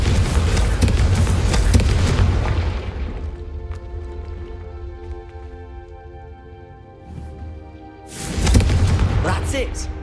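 A Confringo blasting spell goes off in Hogwarts Legacy: a loud, broad explosive boom with crackling debris decays over several seconds, and a second heavy blast erupts near the end.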